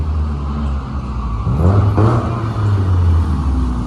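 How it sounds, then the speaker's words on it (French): A BMW E30 car drives past on a road, its engine note swelling and shifting in pitch as it comes close, then easing off into a steady rumble under ongoing background traffic noise. "Une petite E30 qui passe là."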